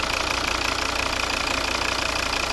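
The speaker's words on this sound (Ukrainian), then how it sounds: "Ну і звук двигуна." A 2012 Volvo V60 2.0 D3 diesel engine idles with a steady, rhythmic clatter, loud and close, running evenly without any voices.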